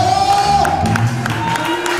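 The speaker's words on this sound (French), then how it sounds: "On reçoit le pasteur Larissa Tadeu sur votre applaudissement." A church congregation at an evening intercession service applauds and cheers to welcome Pastor Larissa Tadeu. Loud, dense clapping and whoops continue for two seconds, close and sustained, over a held musical tone.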